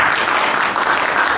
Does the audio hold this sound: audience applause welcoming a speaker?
yes